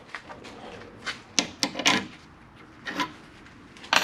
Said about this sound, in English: First step is take this bolt off.